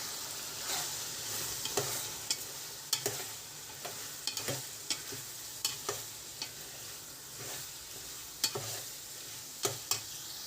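Spicy chicken fries in a pan with a steady sizzle while a spoon stirs and scrapes it in regular, sharp knocks every second or so, close and with no talk.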